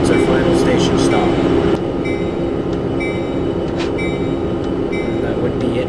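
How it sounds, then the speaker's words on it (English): Surfliner passenger train in the ORTS train simulator slowing toward a station, a loud steady rumble of wheels and rail noise with a sharp drop in level partway through, then a continuing lower roll with faint squeals. "Enough to slow the train down to a reduced speed as we head towards our final station stop."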